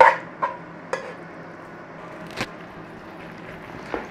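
Onions being stirred in a pan for French onion soup bread pudding, with several light, separate scrapes and clinks of the spoon spaced a second or so apart over a faint background hiss.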